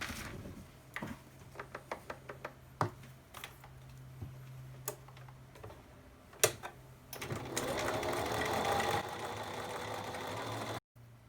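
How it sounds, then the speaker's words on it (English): A domestic sewing machine runs a short basting stitch through a romper mockup, starting with scattered single clicks and taps, then settling into a steady, fast whirring run near the end before stopping. "So I'm going to do a short basting stitch just between the side seam and the center front."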